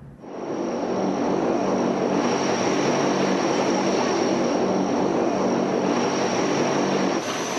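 A U.S. transport cargo plane drones with a steady, loud, unbroken engine and propeller roar throughout.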